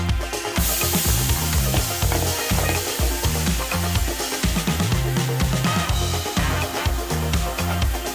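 Onions frying in butter for sisig, a loud, continuous sizzle close up with rhythmic scraping and stirring clatter running throughout, with no talk.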